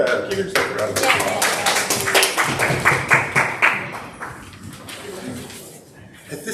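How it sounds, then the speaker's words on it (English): Congregation applause and scattered clapping at a Sunday church service, a dense burst of hand claps for a few seconds that thins out and fades, with voices mixed in. "give yourself a round of applause"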